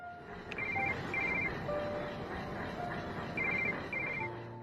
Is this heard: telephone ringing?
yes